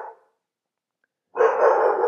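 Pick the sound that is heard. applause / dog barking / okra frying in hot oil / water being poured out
dog barking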